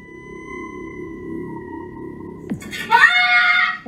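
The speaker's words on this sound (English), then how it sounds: "The way he screams, he sounds so scared too." A boy screams in fright, a sudden piercing shriek breaking in near the end after a steady electronic tone from a video game. The scream is loud and close.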